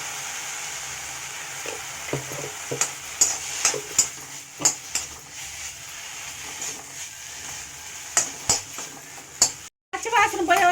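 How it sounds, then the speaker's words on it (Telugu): Buddakara leaves frying with turmeric in a pan, with scattered stirring scrapes and utensil clinks over a soft, steady sizzle that runs throughout. "పచ్చివాసన పోయే వరకు బాగా వేయించాలి ఫ్రెండ్స్"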